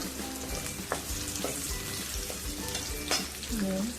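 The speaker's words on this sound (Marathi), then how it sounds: "गाजर फ्राय करायला टाकलेला आहे तेलामध्ये" Carrots sizzling in hot oil in a pan while cooking a veg Kolhapuri dish, a steady frying hiss with occasional stirring scrapes and clinks, close and continuous without speech.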